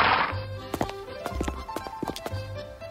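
Animated horses' hooves clip-clop on a stable floor in a fairy-tale cartoon: scattered, irregular taps and thuds, moderately close, over soft sustained background music.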